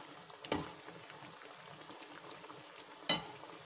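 Poha kachoris fry in oil over a medium flame with a quiet bubbling crackle, broken by two sharp clatters of a utensil.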